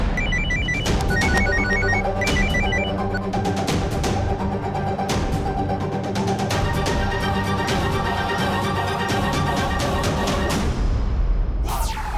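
A telephone rings insistently with repeated electronic trill bursts over a dense, steady background, continuing for several seconds before cutting off abruptly.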